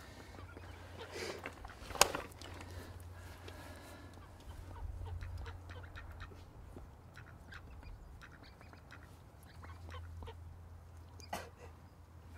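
A duck at a carp fishing swim quacks now and then from close by, with scattered sharp calls among low ambient rumble and outdoor noise.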